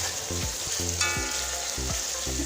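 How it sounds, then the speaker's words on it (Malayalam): Crushed onion and chilli dropped into hot oil hiss and sizzle steadily, close and clear, with a low tonal hum and scraping stir sounds underneath. "നല്ലോണം ചൂടാകുമ്പോൾ നമുക്ക് ചതച്ച് വെച്ച ഉള്ളിയും മുളകും ഇട്ടുകൊടുക്കാം"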